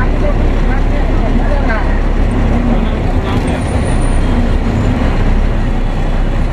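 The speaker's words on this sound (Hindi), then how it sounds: "बहुत ज़्यादा ट्रैफिक है दोस्तों गुमला का।" Heavy road traffic in Gumla heard from inside a moving bus, a loud continuous engine and road rumble with passing vehicles and a hiss of brakes, with a voice talking over the noise.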